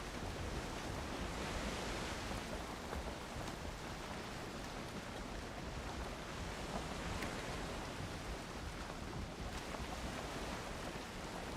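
Steady ocean surf ambience in the Valheim video game: a continuous broadband wash of rolling waves with a windy hiss, even in level and heard alone without voices.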